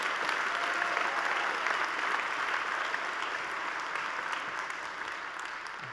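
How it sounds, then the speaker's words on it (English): A high school spring concert audience gives a huge round of applause for students, a full sustained wash of clapping from a large crowd that tapers slightly toward the end. "can we give a huge round of applause to the work that our students have done to earn such an honor?"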